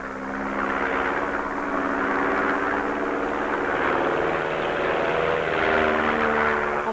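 A propeller airplane flying a stall turn in aerobatics at Saint-Yan in 1964 drones loudly and steadily, its engine pitch shifting slowly as it climbs and turns.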